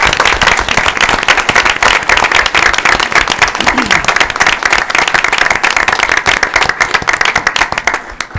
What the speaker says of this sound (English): let's get you a little applause